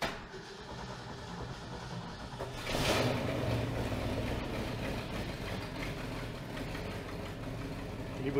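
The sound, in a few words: 1968 Ford Bumpside truck engine starting and idling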